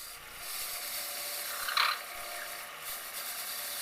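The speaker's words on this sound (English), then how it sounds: "now I'm going to take and I'm going to turn down the tenon where the band is going to fit" A wood lathe turns down the tenon of a wooden duck call, a steady close whirring rasp with a brief sharper scrape of the cutting tool near the middle, with no talking.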